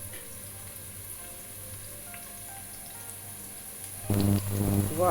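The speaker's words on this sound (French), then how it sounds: "Je laisse cuire un peu les oignons." Onions cook in a pan on a hob set to 8, giving a soft, steady sizzle that swells into louder crackling and clatter near the end, with one brief spoken word.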